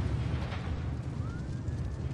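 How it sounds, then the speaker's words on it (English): A massive explosion erupts in the city-building game SimCity 2013 as a low, dense, rumbling roar at moderate volume, sustained throughout with a faint rising whistle partway through. "Use another ambulance and another massive explosion"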